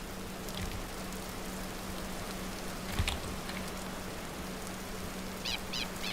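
Rain falls in the Vintage Story video game, a soft, steady hiss under a faint low hum, with a few brief chirps over it.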